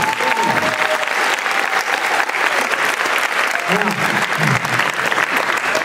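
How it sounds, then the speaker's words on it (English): Steady, dense audience applause at a campus preview event fills the room without a break, with faint voices calling out beneath the clapping. "Give these people a nice round of applause."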